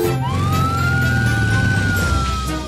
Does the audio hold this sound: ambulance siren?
yes